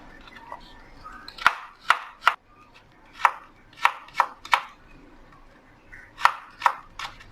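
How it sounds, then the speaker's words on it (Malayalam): Knife chopping through banana stem for a Kerala-style stir fry, in about nine sharp, close chops that come in uneven pairs and triplets against a quiet kitchen background. "ഈ സൈസിൽ അരിയുക. ഓക്കെ, അങ്ങനെ നമുക്കിതെല്ലാം അരിഞ്ഞെടുക്കണം."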